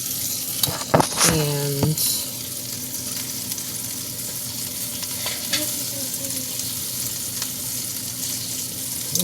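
Corn and asparagus frying in butter in a pan, a steady broadband sizzle throughout with a brief clatter of stirring near the start and a voice speaking once.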